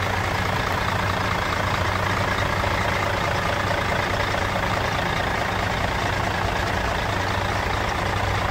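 A 2011 Mercedes Actros 3348 6x6 truck with a German 600 engine runs steadily at idle, a continuous deep rumble with a dense mid-range drone lasting throughout, close and loud with no voices.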